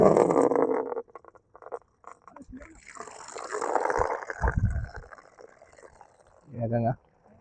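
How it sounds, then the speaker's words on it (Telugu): Tap water runs into a bucket outdoors on Khajaguda Hills, splashing in several separate bursts, loud at the start and again near the end, with a person talking between them. "బకెట్ ఇట్లా పెట్టేసి వాటర్ ఆన్ చేస్తే వాటర్ దిల్ల అయితే పడతాయి."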